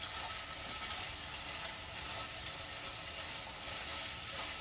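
Ground hamburger frying in a pan with onion and green pepper gives a steady, close, hissing sizzle with faint crackles throughout, unbroken and even in loudness, with no voices.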